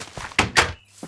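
A door is placed in a block-building survival video game, giving a quick series of hollow wooden thunks in about a second, close and clear with no voice over them.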